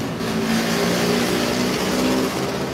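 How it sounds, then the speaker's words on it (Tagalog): A jeepney engine drones on a street, a steady loud rumble with a low humming tone that rises slightly midway, close by and continuous without talk. "mas malaki pa yung tunog ng jeep kaysa sa boses ko eh."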